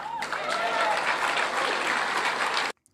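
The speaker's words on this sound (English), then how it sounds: "Biggest cheer of the night." A large crowd cheers and applauds loudly and continuously at an evening political speech event, a dense wall of clapping and shouting voices that holds steady before cutting off abruptly.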